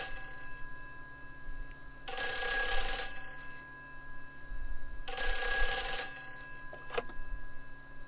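Telephone in the Silent Hill 3 video game ringing loudly in two long electronic bursts, then a brief third start, over a steady humming background drone.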